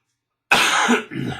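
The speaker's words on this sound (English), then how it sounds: "you'll forgive my cough, I've got a little bit of a cold going on here." A single harsh cough from someone with a cold bursts out after a half second of silence, followed by a shorter raspy throat-clearing, close and fairly loud.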